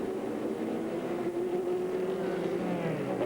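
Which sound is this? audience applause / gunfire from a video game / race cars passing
race cars passing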